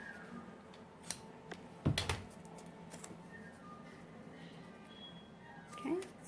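Tape is wrapped around the handle of a small paint roller, producing scattered crackles and sticky peeling pulls, with one louder rip of tape partway through.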